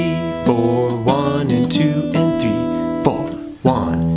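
A solo guitar is played fingerstyle in a blues routine, thumbing bass notes under syncopated eighth-note chord stabs with slight bends, close and steady over a few bars.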